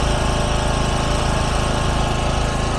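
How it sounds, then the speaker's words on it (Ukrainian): A portable generator engine runs steadily at close range, a loud continuous drone with a fast, even pulsing throb and no talk over it. "уривками звучить генератор"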